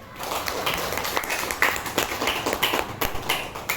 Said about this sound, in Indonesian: Kasih tepuk tangan untuk 3 temannya.